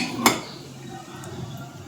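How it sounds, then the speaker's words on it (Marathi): A metal lid is set on a cooking pot of spicy matki (moth bean) curry, one quick clink followed by a low, quiet kitchen hum. "झाकण लावूया."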